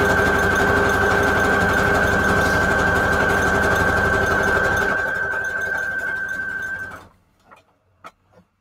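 A sewing machine runs steadily in zigzag stitch mode while stitching junk journal pages, giving a loud, continuous mechanical whir with a fast ticking rhythm for about seven seconds before it stops, leaving a few faint clicks.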